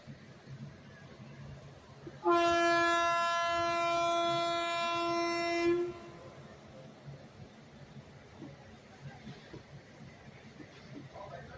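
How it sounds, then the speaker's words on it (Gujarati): A loud, sustained train horn blares for about three and a half seconds with strong harmonic tones as a passenger train departs Devgam station on the Gandhidham to Palanpur line, then fades into quieter rumbling background noise. "અને હવે આપણી ટ્રેન દેવગામથી પણ ઉપડી રહી છે"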